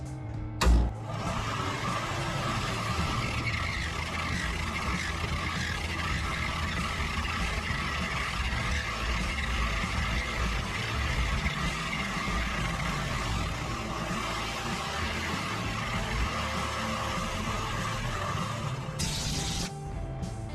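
A machine spun up to its highest speed while grinding a vise, giving a steady loud motorised whir and grinding drone that holds for about twenty seconds, with a short knock near the start and a brief surge toward the end.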